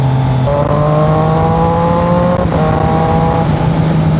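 A Triumph Trident 660 three-cylinder motorcycle is revved up close, its engine note climbing and holding in loud, smooth steps with a brief dip partway through, heard alone.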